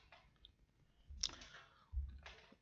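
Mouse clicks while opening an image in Photoshop's Camera Raw dialog, a few soft, close clicks spaced out over a quiet background with no talk.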